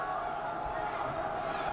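Crowd murmur in a high school boys' basketball gym before tip-off, a steady dense hum of many voices with a commentator talking over it.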